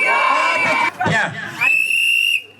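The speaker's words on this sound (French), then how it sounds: "Ça c'est le sifflet de la joie." Shrill, steady whistle blasts ring out at a wedding celebration, one long blast, a short break with voices, then a second sustained blast over crowd chatter and cheering.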